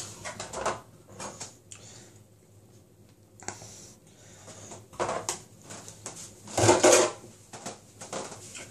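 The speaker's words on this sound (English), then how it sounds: "I'm breaking my toast into pieces whilst trying to carve the butter" A knife scrapes and carves butter onto broken pieces of toast in a quiet kitchen, giving irregular close scraping and clinking bursts separated by pauses, one louder clatter near the end.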